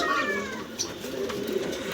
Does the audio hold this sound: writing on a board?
no